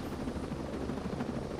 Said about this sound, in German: Hat noch keiner mitgekriegt, dass der Heli startet.